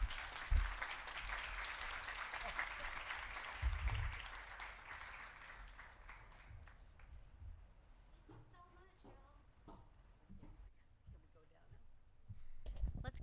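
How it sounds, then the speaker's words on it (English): An audience at a San Diego history conference applauds after a foundation's presentation: dense, close clapping that gradually thins out and fades as a voice begins talking over the dwindling claps. "Let's give them another round of applause."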